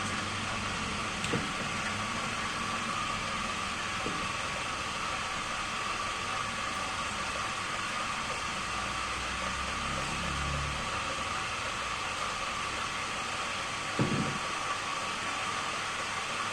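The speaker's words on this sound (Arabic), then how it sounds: "وهنسيب الموتور شغال على الفورمالين حوالي 5 دقايق" A mixer motor runs continuously while stirring a large batch of liquid dish soap with added formalin, giving a steady, even broadband hum with a few faint knocks and no speech.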